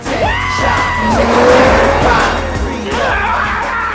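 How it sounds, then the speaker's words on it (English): A car is driven wildly in a comedy movie scene, with loud, continuous engine noise and long, wavering tire squeals and skids. Brief voices sound beneath the close, steady roar. "It seems like he's such a crazy driver, though, that Giamatti drops out of his car."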